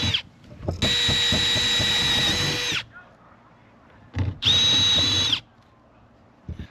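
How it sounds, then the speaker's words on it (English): Power drill boring holes through the metal roof of a Mercedes Sprinter van for a MaxxFan Deluxe vent: two loud, close, high-pitched whining bursts, each a couple of seconds long, separated by quieter handling clatter. "we're going to drill 2 holes in each corner"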